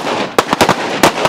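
Gunfire at a shooting range during combat handgun training: a quick series of sharp, loud cracks in close succession, about five distinct reports within a second.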